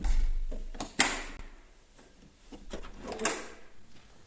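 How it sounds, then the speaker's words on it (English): An old chapel door at almshouses in Appleby-in-Westmorland creaks and thuds as it is pushed open, with a couple of sharp knocks and wooden clunks up close over quiet outdoor ambience. "So you open the door of the chapel."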